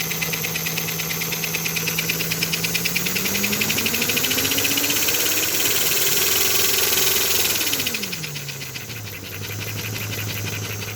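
Model train locomotive with a vintage smoke and chuff assembly running on the bench, fast rhythmic chuffing over a motor whine that rises in pitch, holds, then drops as it slows.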